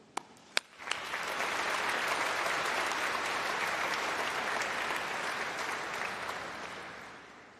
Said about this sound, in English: let's give a round of applause and a huge cheer to say thank you to all of your supporters